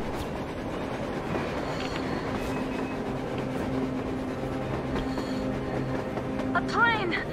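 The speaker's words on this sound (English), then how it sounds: "A train! A damn train on the surface!" A train rolls past in the post-apocalyptic game Metro Exodus, a steady loud rumble of wheels and carriages with metallic squeals near the end.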